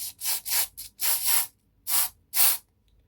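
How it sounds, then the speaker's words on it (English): Room spray misted onto skin in a series of short, close bursts of varied length with brief silences between them, soft hissing puffs heard alone with no talk. "I'm just going to start with a very gentle spray."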